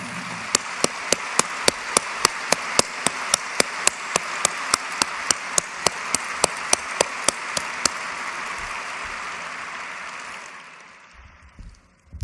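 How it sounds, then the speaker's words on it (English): Large arena audience at the 2006 Berkshire Hathaway annual meeting applauds See's Candy managers: a dense, sustained wash of clapping with steady sharp louder claps poking through, running about ten seconds before dying away. "I'd love to have you give them a real well-deserved round of applause."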